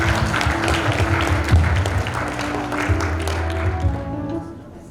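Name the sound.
audience applause at a graduation ceremony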